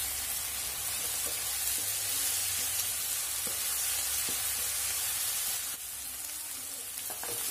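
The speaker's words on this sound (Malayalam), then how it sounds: "ഇത് നല്ലപോലെ ഒന്ന് മിക്സ് ചെയ്ത് ഇതിന്റെ പച്ചമണം പോകുന്നവരൊന്ന് വഴറ്റിയെടുക്കണം." Onion with ginger-garlic paste sizzles steadily in a pan, a continuous close frying hiss broken by faint stirring taps of a spoon.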